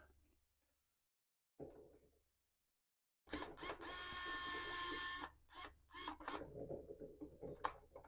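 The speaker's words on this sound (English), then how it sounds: "Only thing with this is I need to get the screws out from behind here." Screws being backed out from behind the cover of a Corally Kagama 4XL 4S RC monster truck: after near silence, a loud, close two-second burst of ratcheting mechanical whir, then scattered clicks and rattles.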